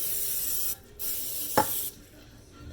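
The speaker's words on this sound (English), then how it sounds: "Spray the bottoms with oil." Cooking oil sprayed onto the bottoms of 9x13 baking pans: two broad hissing bursts of spray followed by a couple of short sharp clicks or taps, close and fairly loud in a quiet kitchen.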